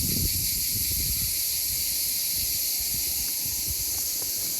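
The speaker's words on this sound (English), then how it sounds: "I can hear them crickets" Crickets in a Spanish village keep up a loud, steady, continuous chorus of high chirping, over a low rumble of wind.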